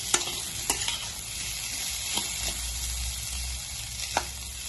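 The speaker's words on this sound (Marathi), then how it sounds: "आता आपण हे छान मिक्स करून घेऊया" Fasting-style dosa batter stirred with salt in a bowl, a soft continuous wet scraping with a few sharp spoon clicks against the rim, close and fairly quiet, with no talking.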